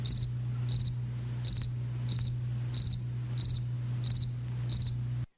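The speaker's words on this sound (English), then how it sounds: "Crickets chirping." Crickets chirp in an even, repeating rhythm, eight bright pulsed trills about every 0.7 seconds, close and clear over a low steady hum, alone without speech.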